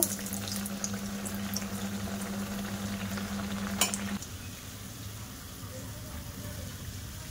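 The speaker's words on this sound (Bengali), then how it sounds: "এবার আমি পিঠাগুলো সব ভাজা করে নেব।" Pitha frying in oil in a kadai on a stovetop gives a steady, close sizzle with a faint low hum underneath, growing a little quieter and thinner after about four seconds.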